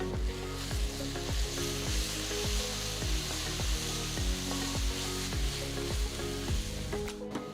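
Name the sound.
ginger garlic paste sizzling with fried onions in pan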